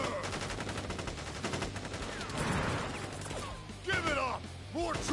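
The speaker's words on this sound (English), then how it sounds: "Ready, aim, fire!" Soldiers fire rifles in a sustained, rapid volley in Final Fantasy 7 Crisis Core, dense and continuous, with shouted voices and sweeping effects layered over the barrage.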